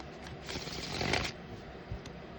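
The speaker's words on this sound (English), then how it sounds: "3 more shuffles, Great Spirit." A deck of tarot cards is shuffled quietly, a soft riffling scrape that swells briefly in the middle and fades, heard close and alone with no talking.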